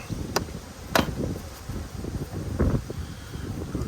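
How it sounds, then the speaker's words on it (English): Wind buffets an outdoor beehive inspection in Australia, a steady low rumble of gusts against the microphone with a few brief knocks and clicks, and bees faintly buzzing underneath. "It's too windy to be in bees"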